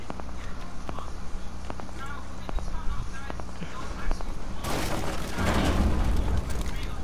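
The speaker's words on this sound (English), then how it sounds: "Sounded like sled, but an explosion at the same time." A heavy explosion in Rainbow Six Siege, like Sledge's hammer breach, erupts as a loud, sustained blast through the final two seconds, after quiet footsteps and faint voices.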